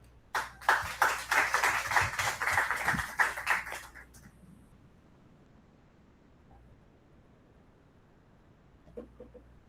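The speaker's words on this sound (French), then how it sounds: "de bien vouloir l'applaudir" A seated audience at a lecture gives a brief round of clapping, a few seconds of close, lively hand claps that stop abruptly, followed by near silence with a faint tap or two.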